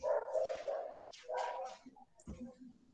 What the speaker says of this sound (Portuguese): Tá uma cachorrada danada aqui na região.